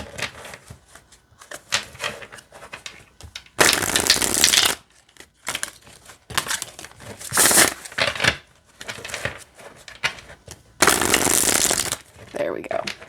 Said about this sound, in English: All right, let's see how it shuffles.